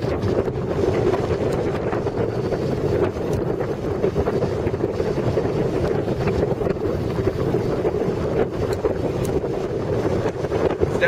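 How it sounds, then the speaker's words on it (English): Strong wind blowing across a microphone outdoors during a golf practice session, a continuous heavy buffeting rumble with no pauses. "It's hard against this wind, I know."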